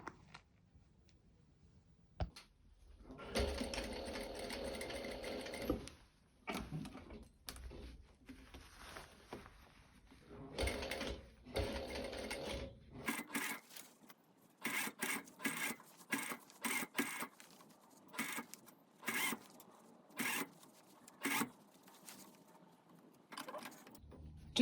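A sewing machine stitches an armhole seam along the side seam toward the shoulder, running in several bursts of steady whirring and mechanical clatter, with short pauses and handling rustles between runs.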